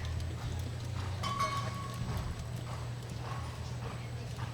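Thoroughbred horse hooves clip-clop across a show jumping course, a steady rhythm of fairly close footfalls over a constant low hum, with a brief whinny-like tone and no talk.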